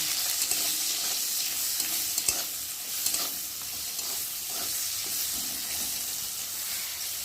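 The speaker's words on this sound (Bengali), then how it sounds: "আর এখন আমি দিয়ে দেবো হলুদের গুঁড়ো, অল্প করে দেবো, দিয়ে ভালো করে ভেজে নেব।" Bitter gourd frying in oil with turmeric powder, a steady close sizzle and hiss with light stirring scrapes and a few sharp taps of the spatula against the pan.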